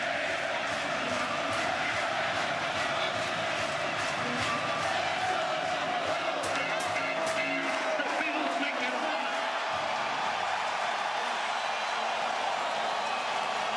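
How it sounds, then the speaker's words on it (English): A football stadium crowd at a Cowboys versus Bills Monday Night Football game roars and cheers continuously, a dense, loud wall of noise with shouts rising, then tapering slightly toward the end. "This crowd's too good. I'll let you enjoy the crowd."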